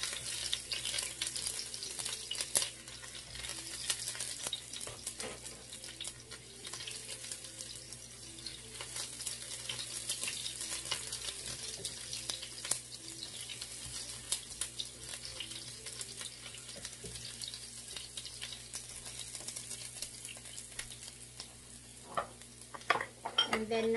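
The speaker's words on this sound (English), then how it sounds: "and then now we saute the ginger" Ginger sautés in oil in a pan for pinakbet, a soft, continuous sizzle running throughout with scattered clinks and scrapes of utensils against cookware, fairly quiet and without talk.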